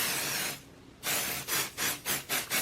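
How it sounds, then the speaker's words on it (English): Aerosol adhesive sprayed onto the back of a sheet of paper for a junk journal, a steady hiss, a pause, then five or six short rhythmic bursts, close and fairly loud with no talking. "I'm going to spray it good because I really want it to stick."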